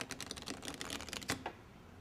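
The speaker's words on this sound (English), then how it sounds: "You now shuffle these cards together, allowing cards to fall from the left hand first." Playing cards riffle-shuffled together by hand, falling from the left hand first, give a rapid, close burst of dense papery clicks that flutters for about a second and a half, then stops into quiet.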